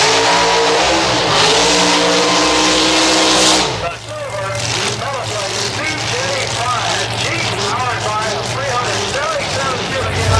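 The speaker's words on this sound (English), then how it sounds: "the 27T Roadster, powered also by a big block Chevrolet" A 27T drag racing roadster with a big block Chevrolet engine roars loudly at the track, a sustained high-revving blast that shifts into a lower, steady drone, under a commentator's continuous talk.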